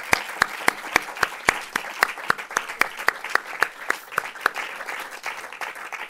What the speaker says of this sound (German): Großen Applaus, Anja Dierberg